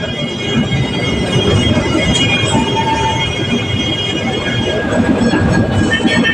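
A Kolkata tram runs along a narrow market street beside the footpath, making a continuous loud rumble with rattling, clattering wheels and faint squeals heard from on board.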